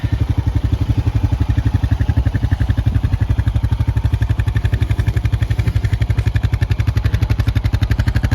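A Honda Pioneer 520 UTV engine runs steadily and close up while pushing snow along the end of a driveway, giving a loud, even, rapid mechanical pulse with no pauses.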